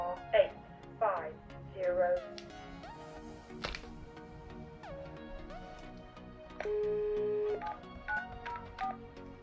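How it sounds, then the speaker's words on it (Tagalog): A telephone busy signal on an office extension line: repeated steady electronic tones with short gaps, mixed with a recorded voice announcement and beeps at moderate level. "Extension 7904 is busy."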